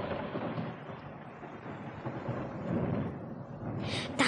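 A low, continuous rumble of thunder rolls on in a radio play, loud and steady like a distant storm, and it swells slightly toward the end.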